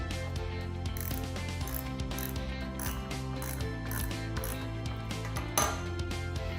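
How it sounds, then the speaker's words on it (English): A ratchet tightens bolts on a simulator mounting kit with a continuous rapid clicking, close and fairly quiet, with no voices. "I just then tighten each one down with the ratchet"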